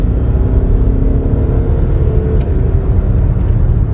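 A VW Passat B6 with a DSG gearbox accelerates hard on kickdown, its engine a steady, loud, close rumble that holds without a break.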